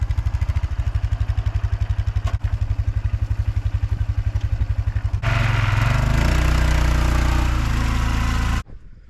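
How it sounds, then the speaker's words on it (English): A four-wheeler ATV hooked to a drag harrow runs close by with a loud, rapid thumping engine beat, which rises into a harder, rougher roar partway through and then cuts off abruptly near the end. "let's get the four-wheeler hooked up to the drag harrow and let's get on with this job"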